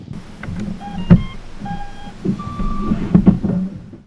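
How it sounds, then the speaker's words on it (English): Blue Robotics T200 kayak thruster motors power up with a sequence of short electronic beeping tones at different pitches, mixed with low mechanical whirring and a few clicks. "you're going to hear the motors initialize"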